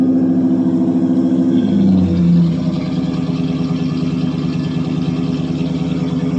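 A 1985 Chevrolet C10 with a 305 small-block V8 idles with a steady, loud, rumbling exhaust note that dips slightly after a brief drop in revs, with no voices.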